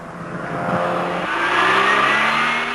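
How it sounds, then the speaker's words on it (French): Peugeot 205 GTI four-cylinder engine revving up steadily, its tone climbing across the clip, loud and close with no voices. "Le moteur Peugeot, plus rageur que musclé, est bien épaulé par une boîte impeccablement étagée."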